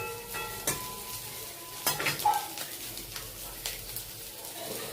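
Prawn fritters mixed with onion, chilli, garlic and cornflour fry in a home kitchen pan, a soft steady sizzle with a few utensil clinks and stirring scrapes, close and moderately quiet.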